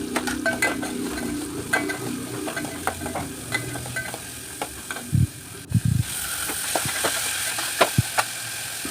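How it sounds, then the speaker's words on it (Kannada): Garlic, onion, tomato, curry leaves and coconut fry in a pan with mustard seeds and cumin, giving a soft sizzle under repeated scraping stirs and spatula clinks close by. "ಬೆಳ್ಳುಳ್ಳಿ, ಬೇಸೊಪ್ಪು, ಕಾಯಿ ಮುಂಚಿ, ಟೊಮೆಟೊ, ನೀರುಳ್ಳಿ ಇದನ್ನು ಪಾಡ್ದು ಸರಿ ಫ್ರೈ ಮಲ್ಪೊಡು."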